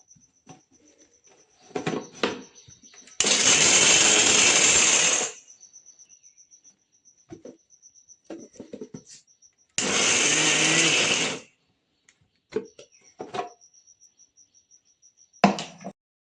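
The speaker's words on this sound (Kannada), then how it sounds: "ಗಟ್ಟಿ ಇರುವಂಥ ವಸ್ತುಗಳನ್ನು ಮೊದಲು ಹಾಕಿ ಹಾಗೆ ತರಿತರಿಯಾಗಿ ರುಬ್ಬುವಂಥದ್ದು" A kitchen mixer grinder coarsely grinds hard chutney ingredients in two loud, steady whirring bursts of a couple of seconds each, separated by quieter clatter and handling sounds, with a faint constant tone throughout.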